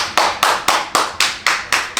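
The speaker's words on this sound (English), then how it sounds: "clap it up, clap it up, clap it up, clap it up." A crowd claps in a steady, evenly spaced rhythm, about eight sharp unified claps in two seconds, loud and close, with no voices over them.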